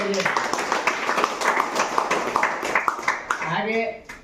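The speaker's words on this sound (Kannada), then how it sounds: "ಒಂದು ಜೋರಾಗಿ ಒಂದು ಚಪ್ಪಾಳೆ" A group claps for a birthday at an ashram, a burst of quick, dense clapping heard under and between people talking.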